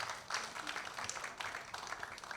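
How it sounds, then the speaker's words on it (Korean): A church congregation claps together during a Sunday afternoon worship service, a steady wash of applause at moderate volume for a couple of seconds with no speech over it. "우리 다 함께 한 번 더 박수로 하나님께 영광을 드리겠습니다."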